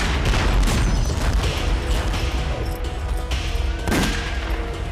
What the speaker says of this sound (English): From the wall itself, the release of arrows and cannon fire.